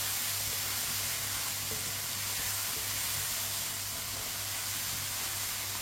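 Lauki (bottle gourd) sabzi cooking in a pan, giving a soft, steady sizzle and hiss with a faint low hum underneath, even and unbroken with no talking.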